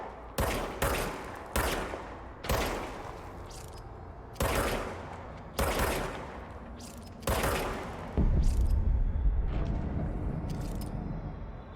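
Gunfire from the video game Control rings out in loud, separate bursts, roughly eight heavy shots with short reverberant tails. The final burst swells into a sustained rumble.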